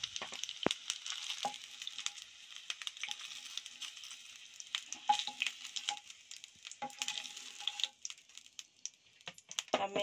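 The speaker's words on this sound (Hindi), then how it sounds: "अब मैं ये सारे फ्राई कर लेती हूँ एग्स को।" Eggs fry in a pan for a chilly egg curry, a steady crackling sizzle with sharper pops and a few light utensil clicks scattered through, close and moderately loud.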